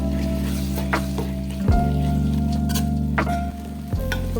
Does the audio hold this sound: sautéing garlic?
yes